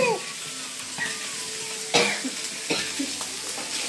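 Mutton masala with turmeric and chilli sizzling in a pan, a soft steady fry broken by stirring and clinks of a utensil, with a cough and brief voices nearby.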